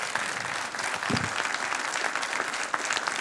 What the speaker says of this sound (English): Let's give all of our panelists a round of applause